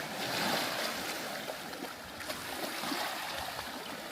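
Sea waves wash and break steadily on a rocky shore at Pennan on the Scottish coast, a continuous broadband surge that swells and eases, with no voices.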